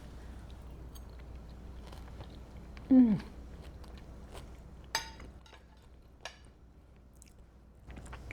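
A bite into salmon with a crunchy topping and butter sauce gives one sharp crunch, followed by a few quieter clicks of chewing in a quiet room.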